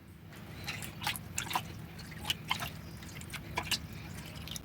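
Water poured from a cup into a pot of sago pearls, heard as scattered close drips and splashes with a soft liquid trickle, fairly quiet with no talking.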